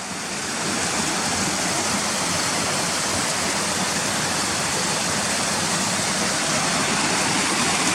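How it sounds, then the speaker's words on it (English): Water rushes through a tunnel beneath railway lines near the Ashgill and Cotterforce waterfalls. It is a steady, broad roar that runs on without a break. "look through this tunnel where the water's going underneath the railway lines"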